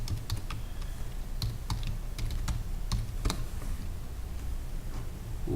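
Someone writes code on a computer keyboard, producing sharp, scattered keystroke clicks at an uneven pace over a steady hum of background noise.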